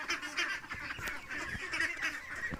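A flock of two-month-old Khaki Campbell ducklings and ducks calling together, a steady busy chorus of overlapping nasal quacks and peeps at moderate distance.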